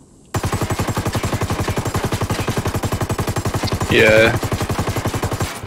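Automatic gunfire in the multiplayer shooter Ghost Recon Wildlands, Ghost War mode: a loud, close, unbroken stream of rapid, evenly spaced shots lasting several seconds, with a short voice cutting in near the end.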